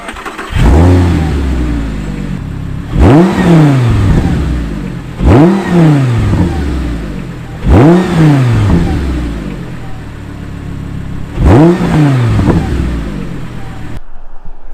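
A powerful car engine revs hard five times in a row, each burst rising sharply then falling back to idle between, loud and close.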